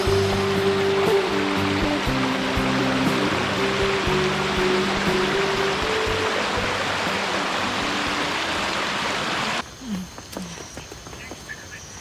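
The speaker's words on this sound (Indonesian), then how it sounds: "Sungai kecil yang ke-6 berarti." Small mountain stream on the Gunung Bawang Siri trail, a steady broadband rush of flowing water close by, carrying on for most of the stretch before dropping abruptly quieter near the end.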